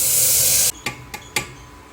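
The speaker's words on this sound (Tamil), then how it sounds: "முருங்கைக்காய் வேக வச்ச தண்ணியை ஊற்றணும்." Drumstick cooking water poured into a pressure-cooker pot of hot ghee with cumin and fenugreek gives a loud, brief hissing sizzle, followed by a few sharp clinks.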